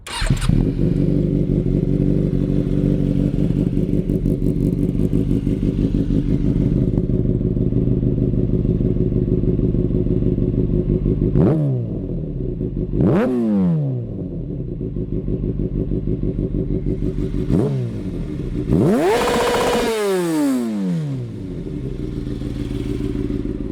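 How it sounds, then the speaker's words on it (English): A 2005 Kawasaki ZX-6R with a full titanium exhaust idles loudly with a deep, burbling note, then revs sharply several times, each blip rising and falling quickly. "This is a 2005 ZX6R with a full titanium exhaust."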